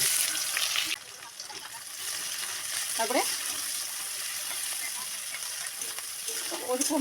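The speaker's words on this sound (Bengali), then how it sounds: "ওই কড়াইতেই পরিমাণ মতো সর্ষের তেল দিয়ে জিরে তেজপাতা দিয়ে কেটে রাখা পেঁয়াজটা দিয়ে দিব" Chopped onion frying with cumin and bay leaf in mustard oil in a wok, a steady sizzling hiss with stirring scrapes, loud from the start and easing slightly after a second.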